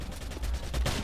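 Gunshots during a 2v2 video game match, two or three quick sharp bursts over roughly a second against steady game background noise.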